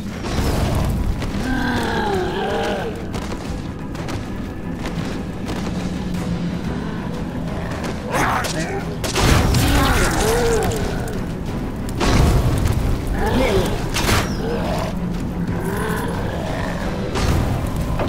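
Heavy booming blasts of cannon fire burst out repeatedly over a dense, noisy soundtrack in the video game Sacred 3, with a few louder impacts standing out.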